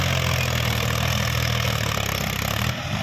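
A Mahindra 265 DI tractor engine runs loud and steady in reverse gear with a low throbbing drone, then drops off near the end.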